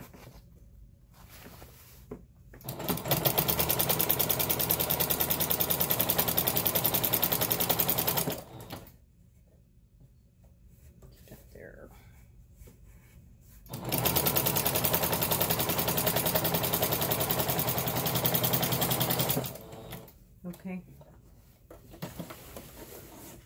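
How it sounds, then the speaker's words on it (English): A sewing machine stitches a blackout lined curtain in two long steady runs of about six seconds each, loud and close, with quiet pauses and handling noise between them. "I'm going to sew all the way to the end."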